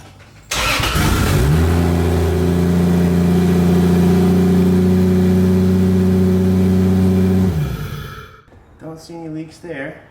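A Toyota 2JZ engine fitted with a budget turbo kit fires up on its first start after installation, then settles into a loud, steady, close-up run for several seconds before shutting off and leaving brief mechanical noises.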